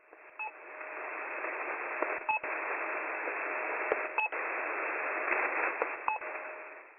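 Shortwave channel marker on a hissy radio band, repeating short descending drop tones every couple of seconds through a steady wash of static.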